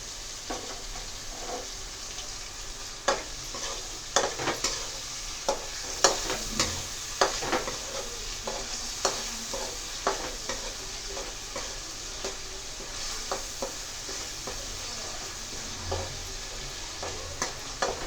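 Curry frying in a pan, a steady soft sizzle with repeated stirring clicks and scrapes of a spoon against the metal, close and fairly quiet, no talking.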